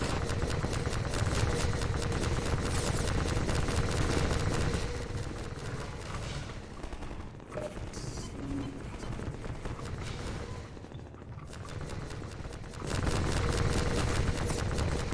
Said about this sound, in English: They're constantly shooting at me.